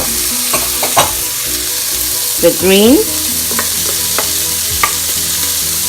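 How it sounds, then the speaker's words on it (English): Vegetables, including red and yellow peppers, sizzle and crackle steadily as they are stir-fried in a hot pan, with scraping stirs and clinks throughout and a brief spoken phrase partway through. "You don't want the vegetables to get too soggy, which is why we're stir frying."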